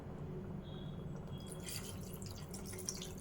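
Water poured into a pot of okra stew, a faint steady trickle and splash, quiet and close, with no talking.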